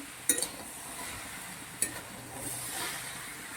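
Kohlrabi sautés in a pan with a low, continuous sizzle, broken by a couple of sharp clinks of a spoon against the pan; close and fairly quiet, with no talking.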